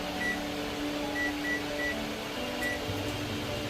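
An electric oven set to convection mode preheating at 210 degrees gives short repeated beeps over a steady fan-like hum, fairly close and clear.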